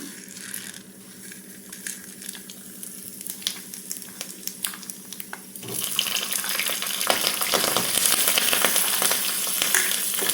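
Cashews and curry leaves tempered in hot ghee for barnyard millet pongal: scattered light clicks at first, then a sudden loud burst of sizzling crackle that stays strong and continuous to the end.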